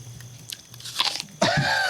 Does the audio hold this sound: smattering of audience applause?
no